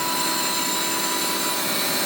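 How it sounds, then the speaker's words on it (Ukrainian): A grinding machine's 1800 mm spindle spins in its own original bearings while grinding, giving a loud, dense, steady whine with a constant high tone over a broad hiss, unbroken and close. "Отак от ми шліфуємо в рідних підшипниках"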